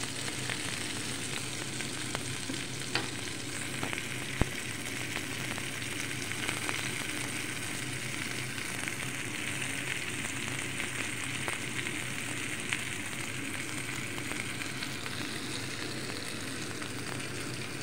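Onion and meat frying in a pan at home, a steady close sizzle running throughout with occasional small crackles and pops, no talk.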